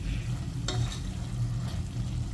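Coconut milk curry with salty shrimp paste (bagoong) simmering in a pan, a steady low bubbling and soft sizzle throughout with one brief stir or clink, no voices.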